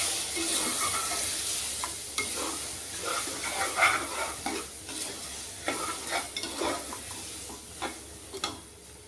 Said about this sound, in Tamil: சேர்த்து நல்லா அப்படியே கலந்து விட்டுட்டு